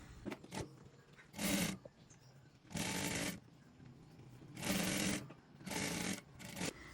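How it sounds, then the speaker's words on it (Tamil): A sewing machine stitches a folded four-inch sleeve hem on a princess-line frock in five short runs, each a loud, buzzing whir lasting about half a second to a second, separated by quiet pauses. "இப்படியே நேராக தைக்க போகிறேன்"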